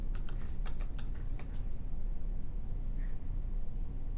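Username being typed on a computer keyboard, a quick run of light key clicks in the first half that thins to sparse taps over a steady low background hum.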